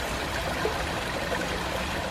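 A river running full after heavy rain, a steady close rushing and trickling of water over rocks, continuous and fairly loud, with no voices.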